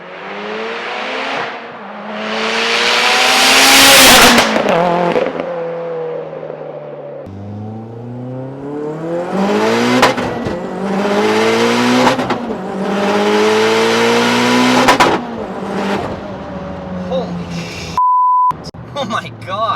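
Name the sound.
2014 Mitsubishi Lancer Evo GSR turbo car accelerating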